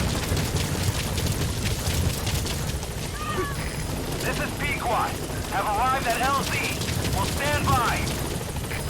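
A support helicopter in Metal Gear Solid 5 arrives with a dense, steady rotor roar that fills the scene throughout, while voices talk over it.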